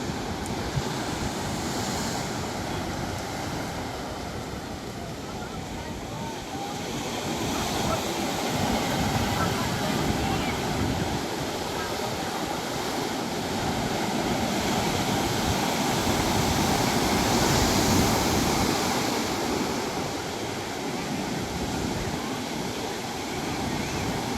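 Ocean surf at Watu Lawang beach in Gunung Kidul, a continuous roar of breaking waves heard from above with wind noise, swelling gradually and never pausing.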